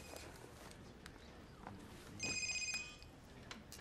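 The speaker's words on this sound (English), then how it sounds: "There's no cell phones in my courtroom, Mr. Rice." A cell phone in a courtroom rings with a short electronic tone burst partway through, set against quiet room ambience and faint movement.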